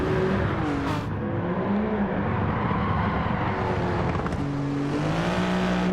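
A Jaguar F-Type race car in Gran Turismo 7 howls at full throttle, its engine note rising and falling through gear changes and corners, loud and continuous with no talk over it.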